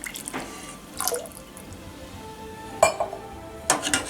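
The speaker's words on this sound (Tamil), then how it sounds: "நான் இன்னும் கொஞ்சம் தண்ணி சேர்த்துக்கிறேன்." Water is poured into a pot of Karunai Kizhangu sambar in a home kitchen, giving a few short splashy pours and drips with light clinks of utensils between them and no talking.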